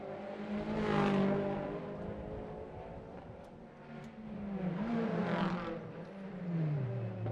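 Toyota GR86 and Subaru race cars at the Macau Grand Prix on an outlap, engines droning past with rising and falling pitch as they accelerate, mid-distance and steady.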